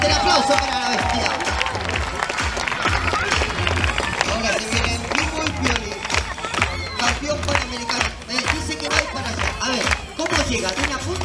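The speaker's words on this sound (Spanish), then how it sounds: "Fuerte el aplauso para la bestia." Outdoor crowd at a street performance festival in Santander clapping rhythmically, sharp repeated claps mixed with cheering while an announcer talks over the noise.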